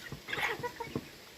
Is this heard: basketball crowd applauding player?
no